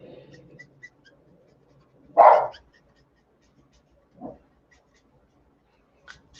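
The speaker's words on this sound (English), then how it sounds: "the dog started barking" A dog barks once in a short, loud burst partway through, followed by a quieter yelp or bark a couple of seconds later in an otherwise quiet room.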